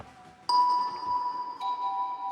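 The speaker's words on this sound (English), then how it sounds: "I just found these little bell stab things" Bright bell stabs in a theme remix strike sharply, then ring out in long sustained tones, with a second lighter hit near the end, loud and clean with no voices.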